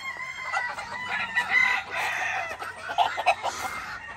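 Chickens and a rooster in a Puerto Rico gamefowl yard: a rooster crows nearby while hens keep up a steady, overlapping clucking close to the listener.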